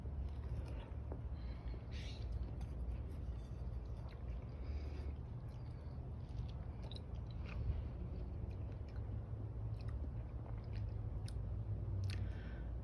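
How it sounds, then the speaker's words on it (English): Someone chews a bite of green Afghani Kukcha melon, an Uzbek cultivar, in soft, close, wet squishing bites that continue faintly for several seconds, with no one talking. "So now moving on onto this green Afghani or Kukcha fruit and tasting this one."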